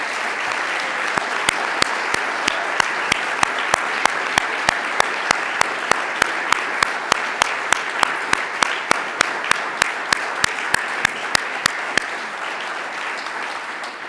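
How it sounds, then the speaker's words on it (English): Townspeople at a town meeting applaud in a broad, sustained burst of clapping. Sharp, evenly spaced claps from one nearby person stand out against the wider crowd until the applause tapers off near the end. "Let's give them a round of applause."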